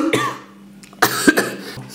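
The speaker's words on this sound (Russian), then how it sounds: "Они кашляют." Two or three hoarse coughs sound up close, an isolated burst first and then a pair of quicker ones after a short pause, with no talking.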